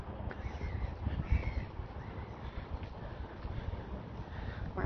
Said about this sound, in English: Banyak banget tuh burung terbang.